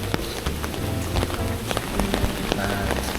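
Rain pattering hard on an umbrella at Kuta Beach, Bali, in a windy storm, with dense, close drops tapping steadily and scattered louder hits over a low rumble.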